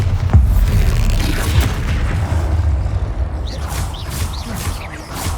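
Bombarda blast spell in the game Hogwarts Legacy, a loud, dense rumbling boom with crackling debris that stays heavy throughout and fades slightly at the end.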